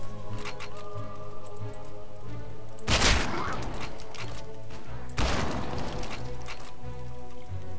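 Gunshots in the video game Land of the Dead: Road to Fiddler's Green, two loud sharp blasts a couple of seconds apart, each trailing into a rattling decay over steady background ambience.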